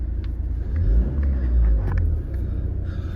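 A Volvo V40 Cross Country 2.0 D3 diesel with about 100,000 miles starts up and settles into a steady, deep, close rumble, with the engine swelling briefly before it evens out.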